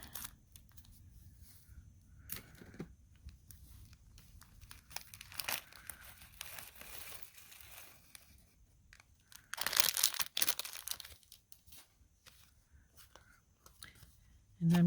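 A stubborn plastic package is cut open with crinkling and crackling of the wrapping and small snips. A louder burst of rustling comes toward the end, with quiet talk at times.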